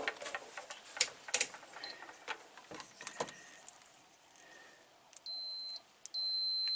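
Multimeter continuity-test beeps while checking an awning fuse: two sustained electronic tones at close range, separated by a brief gap, after scattered clicks and handling noise, with no talk.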